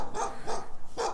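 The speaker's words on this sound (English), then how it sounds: "Sorry about that dog." Three sharp barks from a nearby dog in a backyard vegetable garden, spaced evenly and loud against light background noise.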